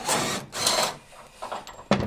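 Power drill with a T55 bit removing a truck bed bolt on a 3rd gen Toyota Tacoma, giving two short whirring bursts nearby, followed by quieter clicks and a sharp final clack.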